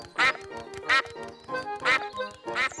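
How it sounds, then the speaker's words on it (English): Several cartoon ducks quack in short bursts, about four loud nasal calls spaced across a few seconds with quieter chatter between, in a Peppa Pig scene. "It's Mrs. Duck and her friends."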